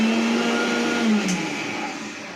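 A mixer grinder whirs steadily, blending an Oreo shake with milk, a loud continuous motor drone with a slight pitch drop partway through.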